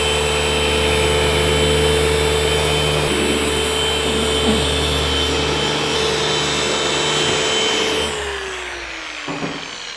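A machine polisher works on a widebody VW Polo show car, giving a loud, steady whirring drone that winds down and fades near the end, with no talk.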